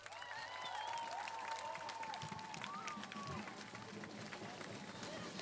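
An audience applauds a school principal at a school event, continuous clapping and cheering heard fairly faint and distant, with voices talking over it.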